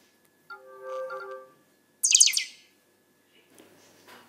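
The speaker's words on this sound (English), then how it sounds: "Nexus 4 has received another notification that an incoming beam is ready to be accepted." An incoming NFC beam notification on a Nexus 4 smartphone plays as a short, bright, chirpy electronic trill, preceded by a soft steady tone and followed by faint rustling, with no speech.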